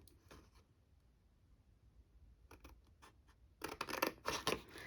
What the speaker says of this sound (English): I'm using my big scissors for this.